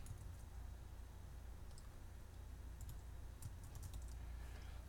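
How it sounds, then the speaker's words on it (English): Keystrokes on a computer keyboard come as faint, scattered clicks in irregular bursts over a steady low hum, quiet and close, with no talking. "change that as easily as just typing on it"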